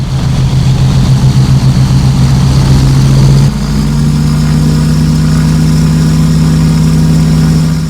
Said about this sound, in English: Our 4 Junkers Umo 205C 6-cylinder opposed piston diesel engines, 599 horsepower each.